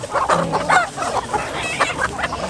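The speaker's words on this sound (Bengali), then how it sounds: "মুরগি আপনাদের দেখাই" Chickens and roosters cluck and squawk in a busy overlapping chorus at a village poultry market in Haluaghat, Mymensingh, with close, continuous calls and no talk over them.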